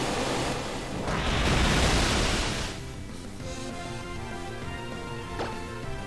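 Waterfall attack effect in Pokémon Omega Ruby, a loud rushing splash of water that swells for about two seconds and fades under a looping battle tune, with no speech.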